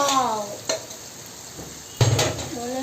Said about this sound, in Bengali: তো এখন মাংসগুলো কড়াইতে দিয়ে দেবেন।